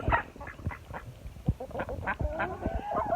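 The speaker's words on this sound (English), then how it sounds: "Oh, here comes the ducks." Several ducks quack in quick, overlapping bursts nearby, a busy chorus of short nasal calls.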